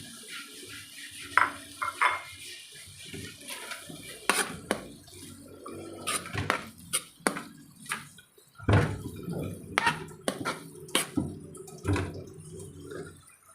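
Home cooking for a Christmas Eve meal: mushrooms tipped into a cooking pan, with scattered clinks and clatters of a utensil against the pan and a wet, soft plop of food, close and fairly quiet, no talking.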